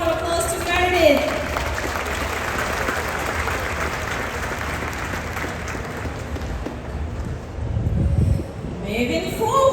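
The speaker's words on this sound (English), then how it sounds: "Once again, give a big round of applause to Meredith." An audience on a cruise ship applauds to welcome a guest, a sustained wash of clapping under a hum of background noise, with an amplified voice speaking at the start and end.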